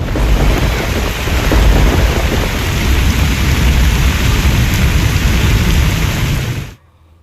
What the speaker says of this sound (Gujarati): રાજસ્થાનના બુંદી જિલ્લામાં સતત ભારે વરસાદને કારણે નદી નાળા છલકાઈ રહ્યા છે